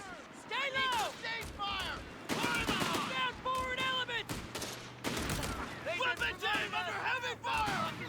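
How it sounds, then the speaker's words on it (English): Rapid bursts of machine gun fire crackle through a Company of Heroes 3 battle, mixed with other gunfire and explosions, while a voice talks over the dense, continuous combat din. "Machine gun suppressing"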